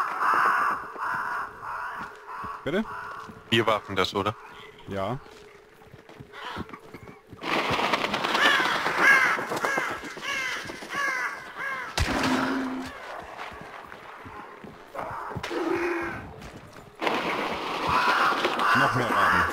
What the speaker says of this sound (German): Noch mehr Raben.